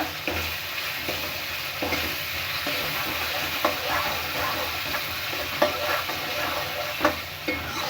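Onion and tomato with a quarter teaspoon of turmeric frying in a pan for village-style egg balls, stirred steadily with a constant close sizzle and periodic soft scraping taps from the spoon.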